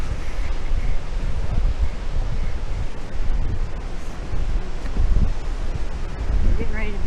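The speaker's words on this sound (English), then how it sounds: "And it's real ocean and real wind." Wind and surf on a winter beach at Myrtle Beach, South Carolina, a loud continuous roar of gusts buffeting the microphone over broad rumbling waves, steady throughout with no clear breaks.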